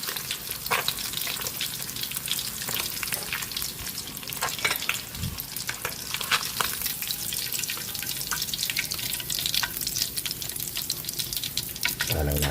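Tilapia frying in a pan, with a dense, steady sizzle and crackle of hot oil throughout, broken by occasional sharper pops and clatters.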